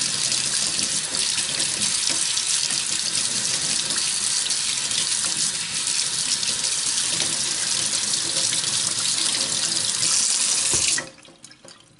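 Tap water runs steadily onto seeds saved from a vegetable garden as they sit in a strainer, a loud continuous broadband rush under no talk, cutting off abruptly near the end.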